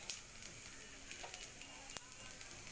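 Tempering spices crackle and sizzle in hot oil as a steady, close frying hiss with small pops scattered through it, without talk.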